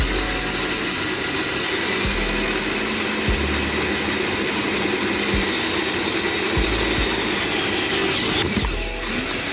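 A power drill boring a 1.5 inch hole, a loud, steady whine and rumble running continuously throughout with slight pitch shifts and a brief dip near the end, close by, no speech.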